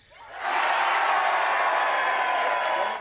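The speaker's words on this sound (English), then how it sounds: "finishing at the net to the roar of the crowd" Crowd roars and cheers at Andre Agassi's pickleball match, swelling up within half a second into a loud, sustained wall of cheering and applause that holds steady before tailing off at the end.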